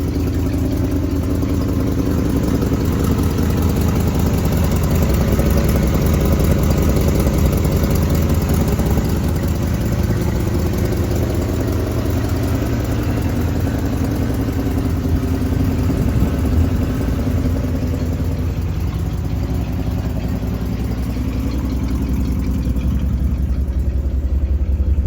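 An engine idles steadily for a long stretch, a close, continuous low rumble with a slight clattery texture and no talking.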